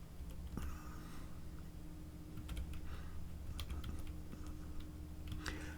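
Computer keyboard keys clack softly and repeatedly while someone tabs through rows of a construction loan calculator, a steady scatter of light, close taps over a low background hum, with no talking.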